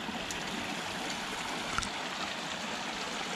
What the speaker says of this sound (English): here is a PVC pipe sticking out of the rock. Okay, this one's flowing really good.